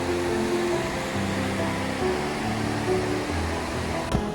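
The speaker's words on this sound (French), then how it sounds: "il y a une enfilade de toutes petites cascades." Steady rushing water fills the clip, a broad continuous wash from a string of small waterfalls tumbling nearby on the Río Reat, with no voices.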